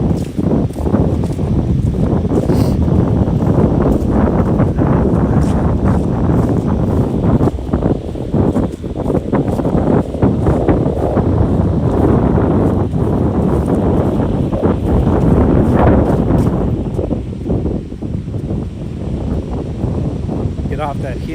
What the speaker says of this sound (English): I gotta get out of this wind because I know it's gotta